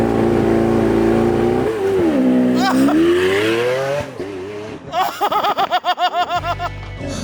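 A roadster launches hard and accelerates, its engine note climbing steeply through the revs before a string of rapid gear-change bursts, loud and close, with a few excited voices at the start.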